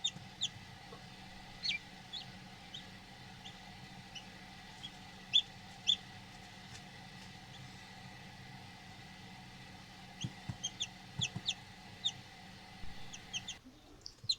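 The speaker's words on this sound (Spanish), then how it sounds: "pudimos ver el primer pollito nacido en esta segunda incubación en nuestra" Newly hatched chicks in a homemade incubator give soft, high peeps in scattered bursts over a quiet, steady hum, with clusters of cheeping around the middle and near the end.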